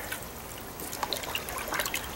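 Faint water trickling and dripping in a basin as a coyote hide is rinsed in clean water, a soft, quiet splash with scattered drips and no voices.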